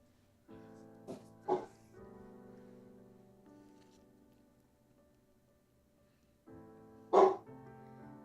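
A dog at home whimpering and giving short yelps, with sustained whiny tonal cries broken by two sharper bark-like bursts, moderately close and heard alone.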